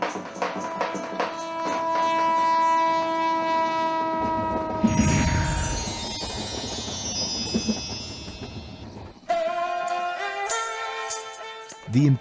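A train horn sounds in long sustained tones, followed by the rumble and hiss of a train rolling into Jaipur station, with another horn blast near the end.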